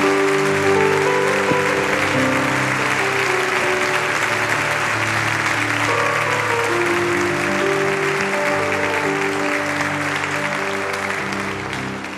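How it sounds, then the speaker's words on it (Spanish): A church congregation applauds for the Lord during a Spanish-language service, a dense, steady wash of many hands clapping that stays loud throughout and tapers slightly at the very end, with a tonal hum underneath. "Otro aplauso para nuestro Señor."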